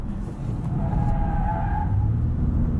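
A 2018 Acura TLX A-Spec SH-AWD with a V6 cornering on a track, heard from inside as a steady low engine drone with a brief faint tire squeal rising mid-turn, no talk.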